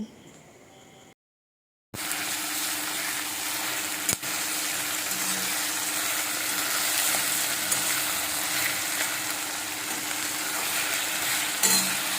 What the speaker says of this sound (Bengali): আগে আমি পেঁয়াজগুলোকে ভালো করে ভেজে নেব নরম করে নেব